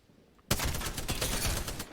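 Rapid gunfire in the Apex Legends video game: a sudden loud burst of repeated shots that continues as a steady volley after a brief quiet start.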